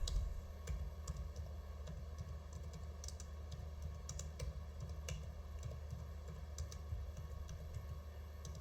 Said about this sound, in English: So we will type agriculture